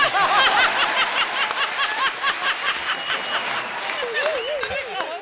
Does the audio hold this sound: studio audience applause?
yes